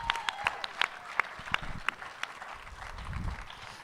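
Scattered handclaps from a small audience at a post-film Q&A for the movie Brewmaster, with sharp separate claps early on that give way to a low murmur of the crowd.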